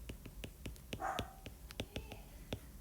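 A dog barks repeatedly in short, sharp yips at a steady pace, heard faintly from nearby in a quiet home with soft room noise.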